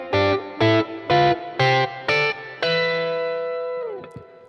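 Electric guitar plays five short, punchy fourths double stops in a steady rhythm, then lets a final chord ring out with effects-laden sustain, alone.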